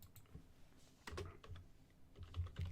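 Computer keyboard typing during a live D&D 5E monster-lore workshop, a quiet close run of irregular key clicks and presses with no talking.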